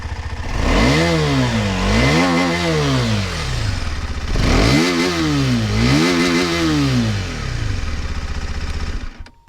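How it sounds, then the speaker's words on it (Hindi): KTM Adventure 250 motorcycle engine revved hard twice from idle, each throttle blip rising and falling in pitch with a raspy exhaust note, loud and close, with no talking. "Let's listen to the exhaust note and then we'll ride it."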